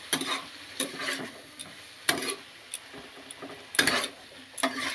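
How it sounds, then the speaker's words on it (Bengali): Vegetables stir-fried with spices and green chilli paste in a home kitchen pan, a soft steady sizzle broken by sharp scraping and clanking strokes of a spatula against the pan at irregular intervals, close up with no talk. "এবার সব মশলার সাথে সবজিগুলো ভালো করে কষাবো"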